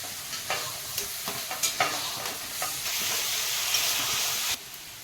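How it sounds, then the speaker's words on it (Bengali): Onion with garlic and ginger paste frying in a wok, a loud close sizzle broken by a series of scraping stirs, then a long steady hiss that cuts off near the end. "পেঁয়াজটা ভাজা হয়ে গেছে রসুন বাটা এবারে দেবো আদা বাটা"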